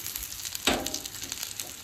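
Hilsa fish frying in a frying pan gives a steady, faint sizzling hiss, with one brief louder crackle partway through.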